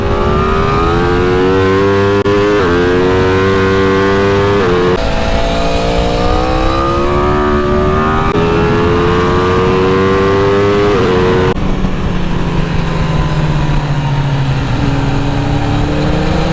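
An Aprilia motorcycle fitted with a dB killer laps a race track at Arizona Motorsports Park. The engine drones loud and close throughout, its pitch climbing and dropping through revs and gear changes.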